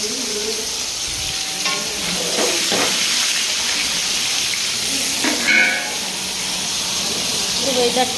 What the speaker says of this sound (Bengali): এখানে দেখো আমি আলু ভাজছি, আলুর দম হবে